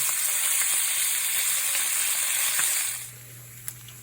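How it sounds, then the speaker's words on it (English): Strips of guanciale fry in a pan with a close, steady hiss and crackle of sizzling fat that suddenly drops to a faint simmer near the end, followed by one light clink. "Once the edges start to curl a little bit like that, you can go ahead and flip it over."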